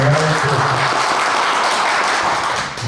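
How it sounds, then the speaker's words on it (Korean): Students and staff at a school closing ceremony give loud, sustained applause for a retiring high school teacher, a dense wash of clapping that tapers slightly near the end. "우리 고등학교 김광석 쌤을 위해서 힘찬 감사 박수, 축하 박수 한번 보내주십시다"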